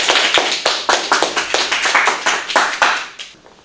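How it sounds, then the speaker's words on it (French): A studio audience at a game show applauds a contestant with sharp, close, rhythmic claps that are loud and distinct, each clap clearly separated, fading slightly toward the end. "Et on applaudit monsieur."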